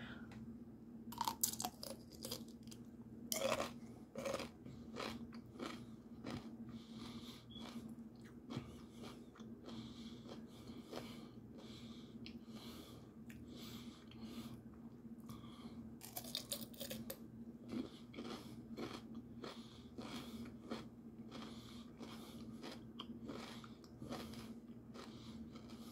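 Repeated close crunchy bites and chewing of pickles, irregular snaps spread across a quiet background with a faint steady hum.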